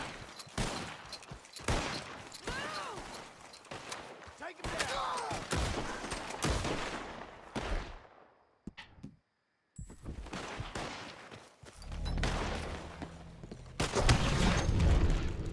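Rapid volleys of gunfire in the video game Red Dead Redemption 2, loud cracks with ringing tails, a brief silent gap midway, then heavier low booms toward the end; voices can be heard in places.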